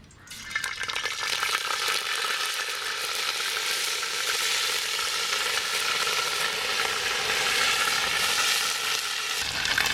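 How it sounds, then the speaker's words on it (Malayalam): Ginger garlic paste drops into hot, bubbling coconut oil in a pan and bursts into a loud, hissing sizzle that stays steady and close for the rest of the stretch, with no talking. "അപ്പോൾ വെളിച്ചെണ്ണ തിളച്ച് വരുന്നുണ്ട്. അപ്പോൾ നമ്മൾ സാറാസിൻ്റെ ജിഞ്ചർ ഗാർലിക് പേസ്റ്റ് ഇടുന്നുണ്ട്."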